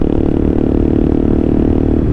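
A motorcycle rides along on a morning trip in Bengal. A loud, close, continuous engine drone and road rumble fills the whole stretch with no break.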